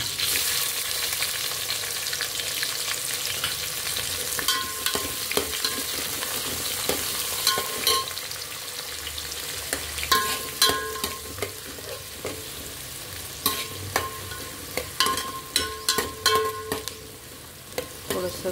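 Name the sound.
onions frying and being stirred in oil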